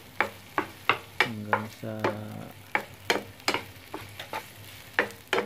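Utensil stirring ampalaya con carne frying in a pan, a regular run of sharp scrapes and clacks over a soft sizzle, with a voice speaking briefly in the middle.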